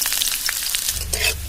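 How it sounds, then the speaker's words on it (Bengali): Chopped onion frying in mustard oil in a wok, a steady close hiss and crackle with a brief stir scrape near the end, no talk. "পেঁয়াজ ভাজা হয়ে গেছে।"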